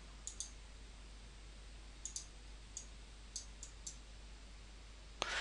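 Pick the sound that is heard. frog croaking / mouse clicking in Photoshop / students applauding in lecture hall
mouse clicking in Photoshop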